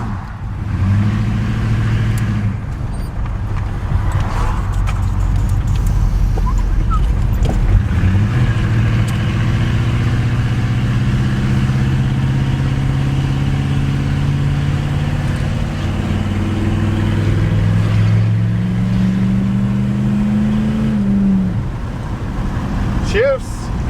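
A GMC truck with a newish transmission runs close by, its engine drone rising and settling as it shifts through gears, with voices talking over it.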